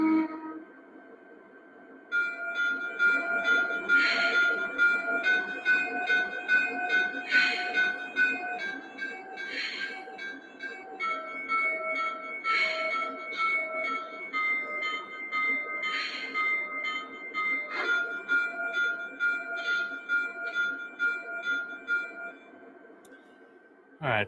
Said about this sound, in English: you're going to get the sound of a turbine when the engine moves